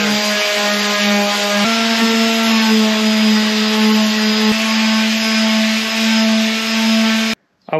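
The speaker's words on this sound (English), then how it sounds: "I went to town a little bit on sanding this." A steady, loud power sander whine grinding across fiberglass van flares runs continuously with slight pitch shifts, then cuts off abruptly near the end.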